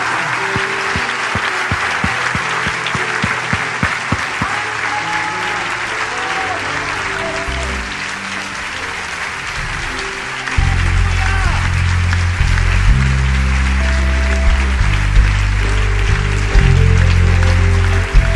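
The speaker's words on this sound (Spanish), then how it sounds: "Un aplauso, ha regresado con gloria." A church congregation applauds loudly and steadily for a long stretch. A low musical backing swells underneath partway through.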